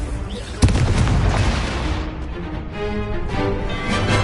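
A Confringo blasting spell goes off in the Hogwarts Legacy game on PS5, a sharp loud burst followed by a dense rumbling roar of game combat that stays heavy throughout.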